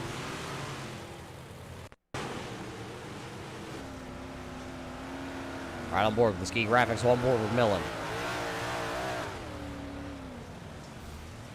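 Big block modified race cars roar around the Limaland track, with a burst of revving and passing engine noise in the middle under a commentator's continuous talk.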